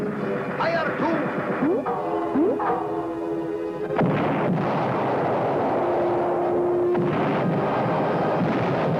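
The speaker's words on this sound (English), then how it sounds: "Hit the deck gun! Fire one, fire two." A cartoon submarine's deck gun fires booming shots at sea, with a loud blast and later heavy rumbling bursts over animated voices and a steady background tone.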